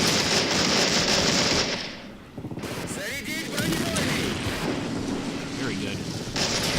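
Gunfire in the Soviet Iron Circle battle of the game Men of War Assault Squad 2: close, loud, dense crackling volleys over wind-like roar, easing in the middle before picking back up, with voices talking amid it.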